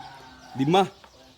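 A single short cluck from a rare five-toed chicken, close by, over faint background noise.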